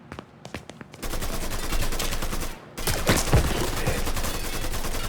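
Heavy gunfight in Mafia 3: Definitive Edition, a few scattered shots followed by sustained loud automatic fire and shotgun blasts, dense and close for several seconds after a brief lull.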